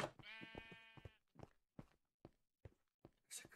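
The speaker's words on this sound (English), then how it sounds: "There's only a sheep." A sheep in the Minecraft video game gives a quavering bleat up close, then a series of soft, evenly spaced footstep thuds follows.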